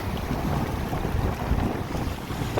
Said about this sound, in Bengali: হাওয়ার আওয়াজও আপনারা পাচ্ছেন